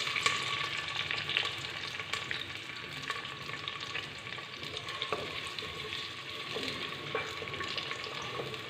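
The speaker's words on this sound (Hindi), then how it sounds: "जैसे ही घी गर्म होगा इसमें हम शामिल करेंगे प्याज" Sliced medium onion sizzles and crackles steadily in hot ghee in a pan, a constant frying hiss with occasional stirring scrapes and no talk.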